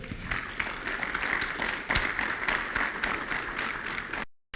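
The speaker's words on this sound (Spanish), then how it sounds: "¿Cuántos le dan un aplauso al Señor?" A church congregation applauds at a general meeting, sustained clapping with individual sharp claps standing out, fading to silence at the very end.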